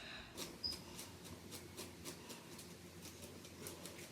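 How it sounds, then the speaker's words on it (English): Brush dragged repeatedly through tangled wet natural hair during a wash routine, a steady series of soft, close scratchy rasping strokes at a quick regular rhythm, quiet and without talk. "That noise is the tangles coming out of my hair."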